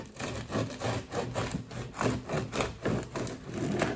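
A knife saws back and forth through crusty homemade bread, each stroke a crackly, crunchy rasp, steady and close, with no voices.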